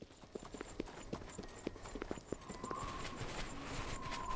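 Horse hooves clip-clop at a steady walking rhythm in the game Oblivion, fairly close and moderately loud over a soft ambient background.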